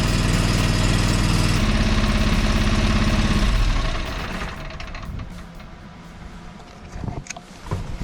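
A John Deere 425 lawn tractor engine runs at a steady loud idle, then drops to a rougher, quieter idle with a few uneven knocks and sputters.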